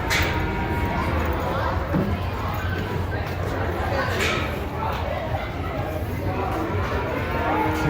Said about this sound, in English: Cows, they're everywhere.